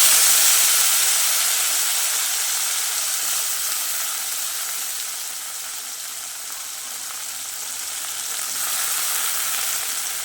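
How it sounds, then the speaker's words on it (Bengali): Chopped onions and onion leaves frying in hot oil with black cumin, a loud, dense, continuous hiss and crackle that eases slightly midway and then swells again, close up with no talking. "কালো জিরেটা হয়ে গেলে ওর মধ্যে দেব কেটে রাখা পেঁয়াজ আর পেঁয়াজের পাতা"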